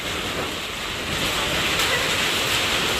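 Strong wind and heavy rain storm in Nepal battering corrugated metal house roofs, a steady roaring wash of broadband noise that swells slightly louder after the first second and holds without pause.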